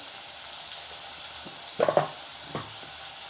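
Ginger paste and turmeric fry in hot oil with a steady, moderate hiss, broken by a couple of soft utensil knocks against the pan near the end. No one speaks.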